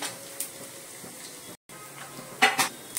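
Cumin and mustard seeds hit hot oil while cooking onion dal, giving a soft steady sizzle with a brief cut and a louder crackling burst near the end.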